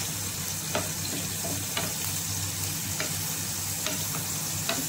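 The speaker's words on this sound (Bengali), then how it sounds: "ফ্রেশ ধনিয়া পাতাটা দিয়ে দিলাম সামান্য একটু, দিয়ে একটু নেড়ে দিচ্ছি" Khichuri being stirred in a hot pan after fresh coriander leaves are added, with a steady sizzle and a few distinct scraping strokes of the spoon, close and continuous, with no voices.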